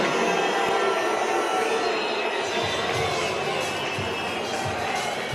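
Rugby stadium crowd at a France v Great Britain match roaring after a Great Britain try, a dense, sustained wash of cheering and noise from a large crowd, steady and far-reaching, with a commentator's voice faintly beneath.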